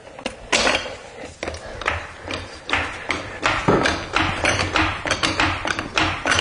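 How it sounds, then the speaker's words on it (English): A car jack, lined up under the pinch weld during a front brake replacement, gives a run of metallic taps, creaks and light clunks that are close and fairly loud, with no speech over them. "I'm lining up my jack under that pinch weld there."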